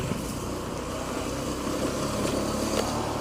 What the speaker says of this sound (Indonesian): Jadi keliling menggunakan motor.